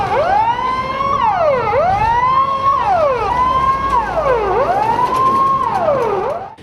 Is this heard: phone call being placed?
no